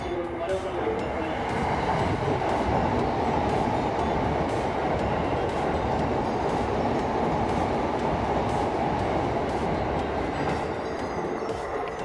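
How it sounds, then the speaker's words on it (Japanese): A Keiyo Line commuter rapid train bound for Katsuura and Naruto rushes steadily through Kaihin-Makuhari station at close range, a loud continuous rumble of wheels and motor with rhythmic clatter over rail joints throughout. "こちらが今日3回目に抜かれる通勤快速の勝浦鳴門行きです"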